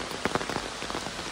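Rain pours down outdoors beside a river, a close, steady patter with individual drops tapping distinctly against a surface.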